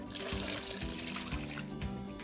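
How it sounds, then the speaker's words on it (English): Stock poured over a chicken casserole with onions and carrots, a steady trickling liquid stream running continuously at a soft level, with faint clinks beneath. "So now I'm going to add my stock. So I'm just going to pour it all over."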